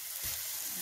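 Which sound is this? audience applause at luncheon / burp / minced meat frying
minced meat frying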